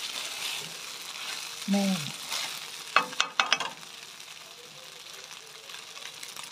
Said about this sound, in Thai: ใส่ไข่ข้าวคลุกไปเลยนะพร้อมเครื่องเห็นไหม